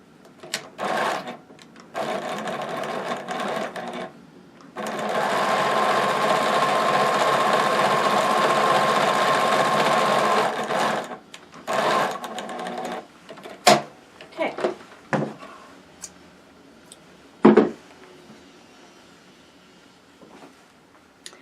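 A sewing machine stitching a stocking: a steady motorized whirring run of several seconds, preceded and followed by short bursts and clicks, close and fairly loud, with no talking.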